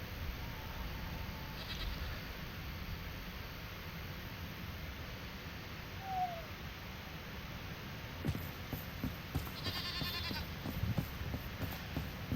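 A goat bleats in the survival video game Enshrouded: a few brief, faint calls over a steady hiss of outdoor ambience, with no talking.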